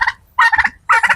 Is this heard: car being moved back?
no